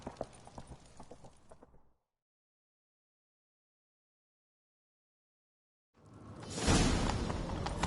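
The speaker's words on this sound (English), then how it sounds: "Grab a horse, we'll chase him down." Hooves clatter in a quick rhythmic clip-clop at moderate volume in The Witcher 3: Wild Hunt, then cut to silence before a loud rushing swell of galloping and wind returns.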